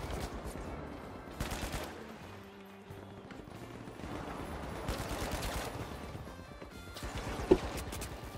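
Turrets firing in the shooter game The Finals, bursts of rapid shots coming and going amid other game noise, with a quieter gap in the middle and a sharp spike near the end.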